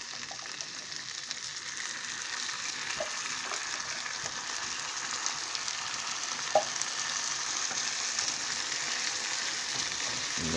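Beans fry in a hot pan with a steady, even sizzle and crackle, a continuous hiss at moderate volume, broken by an occasional soft clink of stirring.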